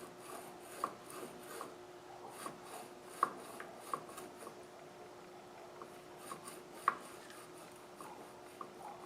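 A Rover differential being turned by hand gives faint, intermittent clunks and clicks over a soft rasping rub, quiet and close, with irregular gaps between knocks.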